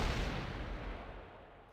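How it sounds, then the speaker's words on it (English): An explosion in the fighting game Persona 4 Arena Ultimax: a loud, dense blast with a deep low-end rumble that fills the whole clip and slowly fades, with no voices. "There's an explosion"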